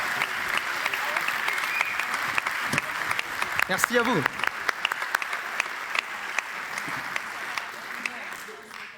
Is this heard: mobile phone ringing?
no